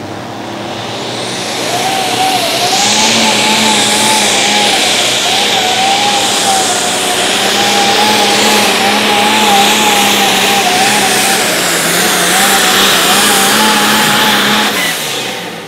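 A Light Super Stock pulling tractor at an outlaw pulling event roars under heavy load for its whole run, engine droning loud and close with wavering pitch as its tires spin.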